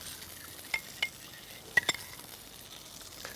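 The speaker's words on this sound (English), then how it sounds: "And we are gonna mix all very well together." Ibérico pork being stirred with olive oil and pimentón, giving a low, faint wash of mixing with a few soft clicks and scrapes of the spoon against the dish.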